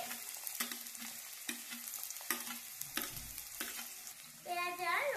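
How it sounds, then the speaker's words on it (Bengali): Chopped onion and garlic frying in hot oil with black cumin seeds: a steady sizzle broken by regular scraping strokes of a spoon roughly every second, growing louder and busier at the end. "পেঁয়াজ আর রসুনটা একটুখানি ভাজা ভাজা হয়ে গেছে।"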